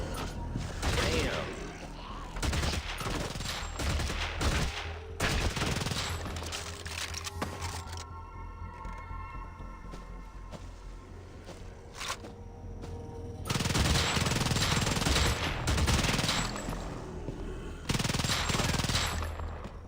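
Submachine gun fire in a VR shooter game: loud, rapid automatic bursts with mechanical clicks, repeated bursts broken by a quieter stretch midway, then heavy firing again near the end.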